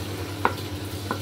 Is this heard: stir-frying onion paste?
yes